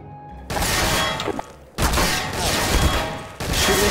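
Bursts of rapid gunfire crack in a Garry's Mod jail roleplay game, three loud dense volleys separated by brief lulls, close and harsh.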